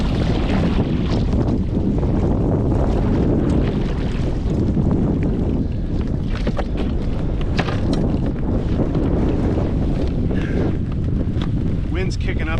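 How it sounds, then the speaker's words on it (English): Strong wind blows across a lake during a camping trip at Dollars Lake, a loud, continuous buffeting roar of wind noise hitting the microphone, aboard a small anchored boat, with faint voices under it. "Wind's kicking up again"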